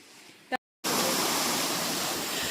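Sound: small waterfall near home

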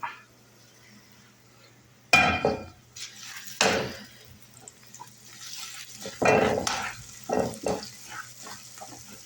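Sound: stirring tempering into tomato chutney

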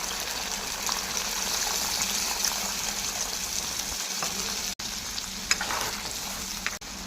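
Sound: water poured into hot oil in cooking pan

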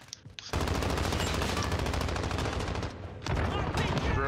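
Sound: gunfire in a video game shooter

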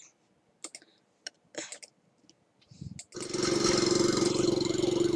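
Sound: lawn mower engine in the video game Roblox

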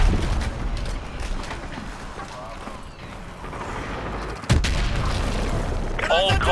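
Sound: heavy gunfire in the video game Call of Duty: Modern Warfare 2

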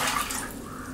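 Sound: water poured into pressure cooker

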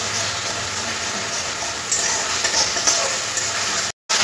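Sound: onion with ginger-garlic paste frying in a pan

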